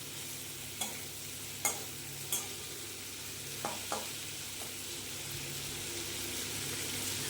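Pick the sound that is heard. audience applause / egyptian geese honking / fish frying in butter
fish frying in butter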